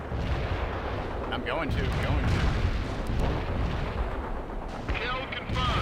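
Incoming mortar and artillery fire in the World in Conflict war game: continuous loud booms and gunfire rumbling throughout, with a voice speaking briefly over the barrage.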